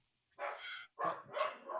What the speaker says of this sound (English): Oh, shush, dogs.